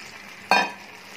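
Chicken stock poured into a gravy frying over a medium flame for chicken chop suey bursts into one sudden loud sizzle that quickly trails off into a soft background hiss.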